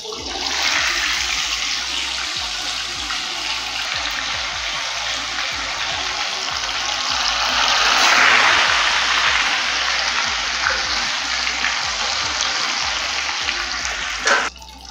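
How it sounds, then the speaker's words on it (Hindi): Masala-coated fish pieces fry in hot oil in a pan for a Lahori fish fry, making a loud, steady, close sizzle that holds throughout and swells briefly midway, with a clatter near the end. "इसी तरह से हम अपने जो बाकी की पीसीज हैं उन्हें फ्राई करेंगे।"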